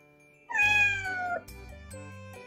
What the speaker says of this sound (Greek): είχε για παρέα μια γατούλα